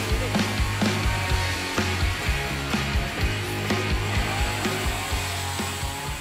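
A chainsaw carving wood, its engine droning steadily with a rough, rhythmic pulsing as the blade bites and revs, close and continuous without talk.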